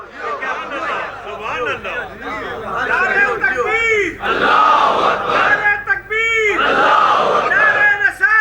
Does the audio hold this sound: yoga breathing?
no